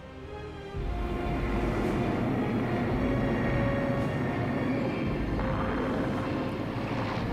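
A loud, steady engine roar of an aircraft, starting abruptly and holding constant with a low rumbling drone throughout.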